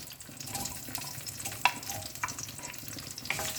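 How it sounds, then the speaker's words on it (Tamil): Fenugreek, mustard seeds and small shallots fry in hot oil for a fish curry, giving a steady close sizzle broken by a few sharp pops and a faint stirring scrape, with no talking. "அதில் கொஞ்சம் வெந்தயமும் கடுகும் சேர்த்துக்கலாம். மறுபடியும் கொஞ்சம் வெங்காயம் எடுத்துருக்கேன்."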